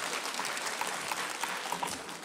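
A crowd claps steadily throughout at a town meeting debate, a dense patter of applause heard from within the room.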